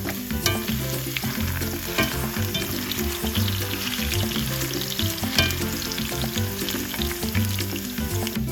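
Small potato pieces frying in a pan, a dense continuous sizzle with busy crackling and spattering throughout, loud and near, with no talking.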